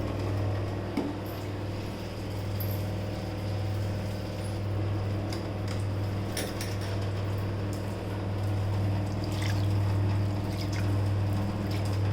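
Water runs and splashes as a mix of lentils is washed for sambar, a steady wet flow with faint clinks of the vessel and a low continuous hum underneath.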